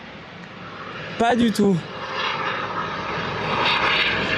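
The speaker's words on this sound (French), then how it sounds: "Ah, c'est l'hélico qui décolle." A helicopter taking off somewhere out of sight, a distant steady rotor and engine roar lasting the whole stretch and slowly swelling, with people speaking briefly over it.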